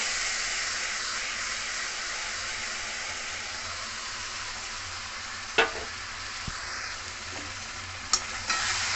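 Raw mango pickle mixture being stirred in a hot pan, giving a continuous even sizzle and hiss with a few brief knocks of the spoon against the pan near the end; no voices.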